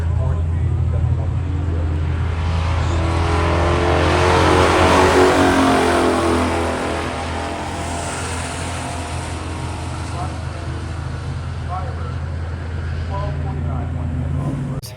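Ram Air Firebird racing a 1971 400 four-speed at a pure stock drag strip, engines roaring and swelling to a peak mid-run before easing to a steady drone, with voices talking throughout.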